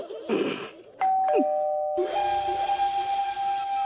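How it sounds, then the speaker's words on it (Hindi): A faulty house doorbell gives a ding-dong chime followed by a sustained electronic ringing tone that lingers steadily at close range. "तुम्हें कितनी बार बोला है कि दरवाजे की घंटी ठीक करा लो"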